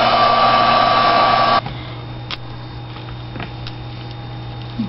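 A heat tool blows steadily on a glass framed pendant coated with blending solution, a loud broadband whoosh that cuts off abruptly after about a second and a half, leaving quiet room noise with a few faint clicks.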